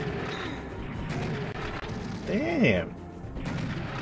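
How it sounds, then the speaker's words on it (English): Gunfire and explosive impacts during a boss fight in Serious Sam HD: The First Encounter, a dense barrage of shots and crashes with a warbling creature cry in the middle, while a man exclaims over the noise. "Stop shooting me!"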